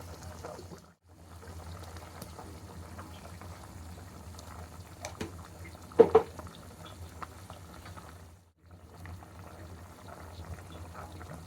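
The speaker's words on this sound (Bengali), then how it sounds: "বলক আসছে, আমি এখন একটুনি কমাই দেবো।" A pot of spicy chicken curry bubbles at a rolling boil, a soft continuous burble with brief dips and a sharper splash or clink in the middle, heard close and without talk.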